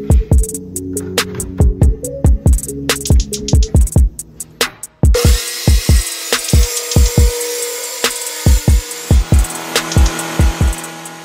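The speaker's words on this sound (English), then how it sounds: "I have to line up the circular saw as well as the cross-cut jig on my 15 1/4 inch mark" Wood is cut using a circular saw and a cross-cut jig: loud rhythmic knocks and clatters, then a high saw whine rising after midway under repeated sharp impacts, close and prominent.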